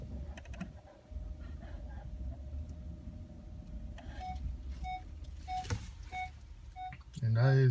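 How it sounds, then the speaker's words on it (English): Parking sensor in a 2017 Honda Accord hybrid Touring sounds a series of short, evenly spaced electronic beeps over low cabin rumble, starting soft and growing slightly quicker before a louder burst near the end. "that is your parking sensor"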